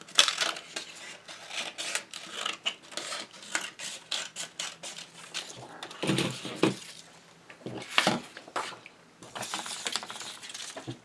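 Scissors cut a recycled cardboard box in half in a run of close, crisp crunching snips with short pauses between cuts, quiet overall and without talk.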